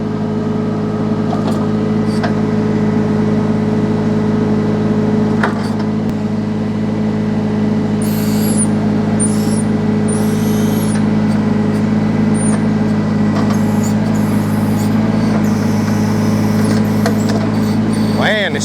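Solis H24 compact tractor with a backhoe digging out an old stump, its engine droning steadily and loudly throughout with a constant low hum, brief high whines from the hydraulics partway through, and a voice talking over it.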